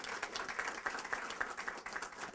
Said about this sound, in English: So if we can give Barry a round of applause